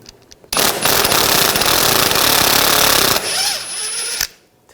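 A power tool with an E12 socket spins out suspension bolts on a 2000-2006 BMW X5, one loud close burst of rattling impact noise lasting about three seconds, then a brief lighter whir before stopping.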